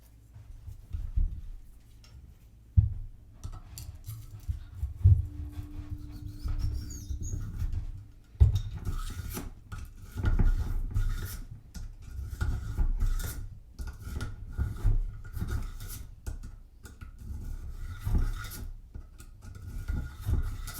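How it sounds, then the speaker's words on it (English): Scrubber pad pushed back and forth through a Ruger Mark IV .22 pistol barrel, giving a low, close rubbing rasp in repeated strokes with a few sharp clicks, no talking. "let's run this scrubber through it a couple times."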